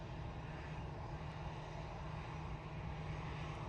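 A Ryanair airliner passes close by near Manchester Airport, its engines giving a steady, broad roar at moderate level that holds throughout without talk.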